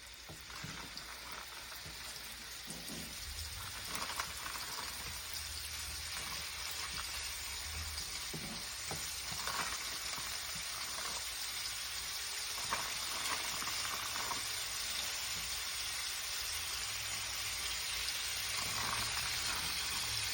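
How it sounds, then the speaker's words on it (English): Beef frying in oil in a pan for stew, a faint steady sizzle and bubbling hiss lasting about twenty seconds, with occasional soft clinks and pops and no voices. "we're just gonna fry it"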